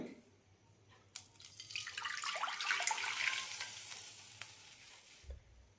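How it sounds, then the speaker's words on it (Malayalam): A cup of water poured into a pan while making a semolina snack, rising into a hissing, rushing splash that swells and lasts about four seconds before fading, with no talk. "പാനിലേക്ക് ഒരു കപ്പ് വെള്ളം ഒഴിക്കാം"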